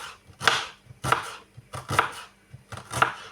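A knife chops a halved onion into half-rings on a board: close, crisp strikes in four quick bursts of several cuts each, with short pauses between.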